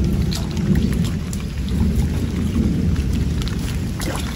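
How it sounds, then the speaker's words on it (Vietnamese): Steady rain patters densely, with a deep rumble of thunder rolling underneath the whole time; no voices. "Trời mưa đi về nhà cả nhà."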